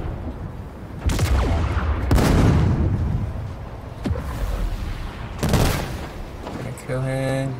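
Gunfire in a Halo match on a Big Team Battle map, heavy bursts and booms filling the mix in several loud waves, with a short tonal game sound near the end.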